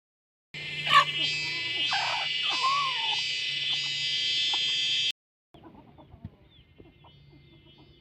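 Backyard chickens cluck while being fed, a few short calls over a steady hum that cuts out abruptly, leaving faint scattered sounds.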